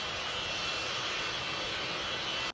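A fixed-wing airplane engine roars steadily as a sound effect, a loud continuous broadband whooshing drone that cuts off abruptly at the end, with no voices.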